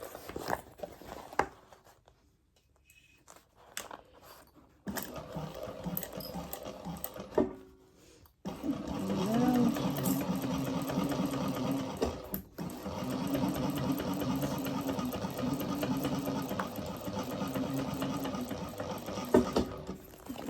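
A sewing machine stitches butter-bag material around corners, running in steady sustained bursts with short pauses between, close and fairly loud throughout.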